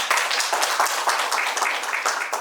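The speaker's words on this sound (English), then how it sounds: "Round of applause for our speakers." Audience clapping for speakers at a conference session on building strong, resilient organizations, a steady, dense patter of many hands that carries through the whole moment without pause.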